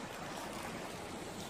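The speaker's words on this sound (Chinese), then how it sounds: "小桥流水，" A small stream flows under a little bridge in a rural village, giving a steady, close rushing and gurgling of water that carries on unbroken and alone, with no voices over it.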